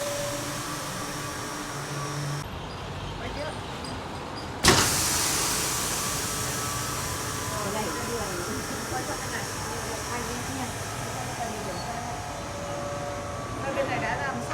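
A vacuum packaging machine with a 20 cubic metre, 380-volt vacuum pump runs on test with a steady, loud mechanical whir and hum, a sharp clack partway through, and people talking over it.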